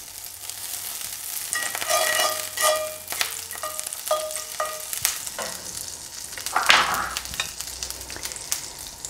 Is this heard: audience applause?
no